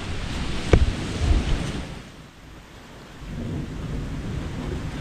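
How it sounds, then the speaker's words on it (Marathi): Heavy rain pours steadily during a sudden thunderstorm in the Konkan region, with a loud, close thunder crack early on followed by a low rumble, then an unbroken wash of rainfall. "पाऊस मी पावसाळ्यात पण असं पाहिलं नाही कधी"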